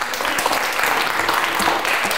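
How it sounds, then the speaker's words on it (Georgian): Audience applause at a school quiz show, steady clapping from a crowd filling the whole stretch, fairly loud and continuous with no talk over it. "აპლოდისმენტები მარიამს"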